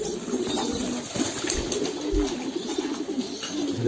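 Giribaz pigeons at a pigeon farm coo softly and shuffle nearby during their bath, with faint rustling and a few light splashes or flutters over a steady background hum.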